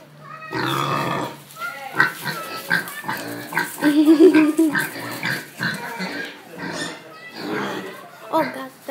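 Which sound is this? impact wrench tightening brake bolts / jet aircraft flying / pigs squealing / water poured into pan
pigs squealing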